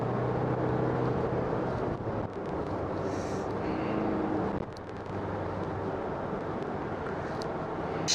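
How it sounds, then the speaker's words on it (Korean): A Hyundai Staria diesel van accelerating past 100 km/h on a highway near Paju, heard from inside as a steady low engine drone with road and wind rush, fairly quiet and continuous with a brief dip midway. "한번 100km 이상으로 쏴보면서 이 디젤의 가속력이 얼마인지 테스트를"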